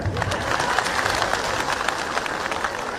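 A large audience at a live public event with a chief minister claps steadily in a dense, continuous wash of applause that lasts throughout, with no talking heard.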